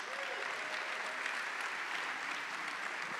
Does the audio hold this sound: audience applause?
yes